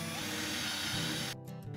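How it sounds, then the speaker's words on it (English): A power drill whirs steadily at close range for over a second, drilling holes in a ski to mount bindings, then cuts out briefly before spinning up again in short bursts. "Drill the holes,"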